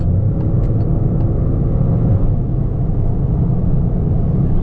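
A Peugeot 208 GT Line accelerates at mid-range speed, its engine a steady, loud, low rumble from inside the cabin with continuous road noise and no break.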